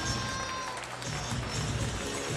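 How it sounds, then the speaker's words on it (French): A basketball crowd claps and cheers for the visiting Rouen Métropole Basket team at a game in Orléans, dense continuous applause close around, with an announcer speaking over it. "Applaudissements à l'équipe de Rouen Métropole Basket"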